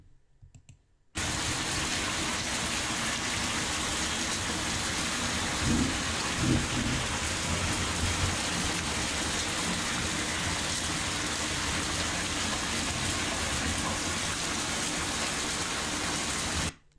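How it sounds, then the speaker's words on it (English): Recorded thunderstorm with steady heavy rain pouring throughout, a faint rumble of thunder building near the middle, loud and continuous after a brief quiet start, no voices. "pay attention to the thunder and the lightning"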